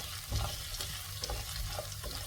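Ginger fries in hot oil with a faint, even sizzle, broken by a few soft stirring scrapes and taps, close up and quiet, with no voices.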